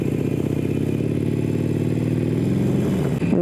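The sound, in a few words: Harley-Davidson motorcycle engine revving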